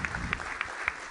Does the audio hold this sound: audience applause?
yes